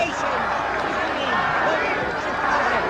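A boxing arena crowd at the Muhammad Ali versus Trevor Berbick fight, a dense, steady roar of many voices chanting together, loud and sustained throughout.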